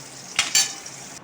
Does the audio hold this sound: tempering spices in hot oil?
yes